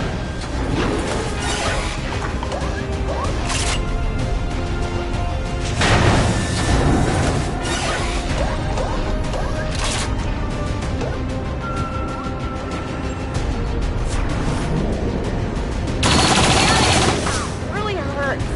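Gunfire and explosions in the video game XCOM: dense, continuous bursts of shots with heavier booming impacts and whooshes, loud and busy throughout, with voices mixed under the combat.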